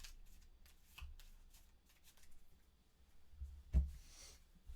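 A deck of Arkham Horror cards is shuffled nearby in soft, rustling bursts, with a sharper riffle near the end and no one speaking.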